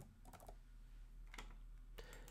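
A few quick bursts of key presses on a Mac computer keyboard, clicking in short clusters separated by brief pauses, close and fairly quiet against a low steady background hum.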